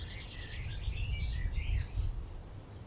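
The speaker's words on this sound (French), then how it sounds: "écouter les oiseaux chanter" Birds sing in a forest: a scatter of high, bright chirps and warbling calls, moderately close, over a steady low rumble of wind or distant background noise.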